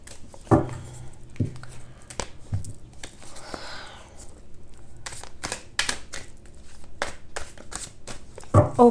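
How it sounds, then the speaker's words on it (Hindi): Tarot cards from a second deck are shuffled in soft, quick riffling bursts with scattered taps and slaps, close and fairly quiet, with a faint voice in the background. "from another deck I am taking I am going to pull some cards"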